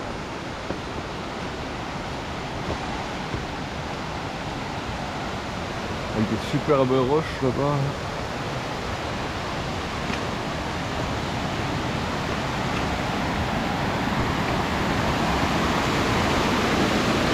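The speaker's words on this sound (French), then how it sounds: "C'est la petite cascade, mais je crois qu'il y en a une plus grosse aussi." A small waterfall on the Wormsa stream near Mittlach, in the Vosges hills, pours in a steady, loud broadband rush that fills the whole scene, with a short spoken remark partway through.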